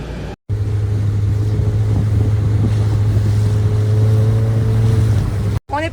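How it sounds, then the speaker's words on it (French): Off Dubai, rough sea with big waves surges steadily under a constant low motorboat engine drone and wind buffeting the microphone, loud and continuous with two brief dropouts. "Il y a des sacrées vagues aujourd'hui."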